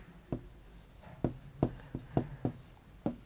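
Chalk or pen strokes tapping and scratching on a board while a maths answer is written, about eight short, distinct marks in an uneven rhythm, close and fairly quiet.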